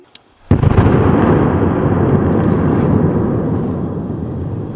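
After a brief quiet moment, a police bomb squad's controlled detonation of explosive ordnance in Ukraine erupts as a sudden loud blast and becomes a long, heavy rumbling roar that slowly fades over several seconds.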